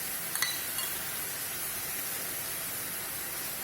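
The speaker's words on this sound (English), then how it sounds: "Add in the tomatoes. Add in the ginger, garlic and the green chilies." Tomatoes, ginger, garlic and green chilies fry in a pan for a makhani paneer gravy, giving a steady, even sizzle with a few faint clinks near the start and no talking.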